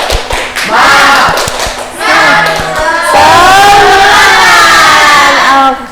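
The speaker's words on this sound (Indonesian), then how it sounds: "Oke, kita tepuk semangat dulu ya." A class of children performs a rhythmic spirit clap in a classroom, with bursts of patterned clapping and thumps mixed with loud group chanting and cheering voices, close and energetic throughout.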